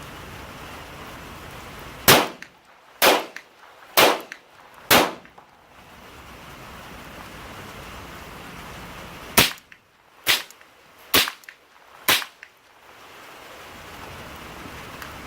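A Ruger Mark IV 22/45 Tactical .22 pistol fires supersonic ammunition through a suppressor: two evenly spaced volleys of four sharp, loud cracks, separated by a quiet pause.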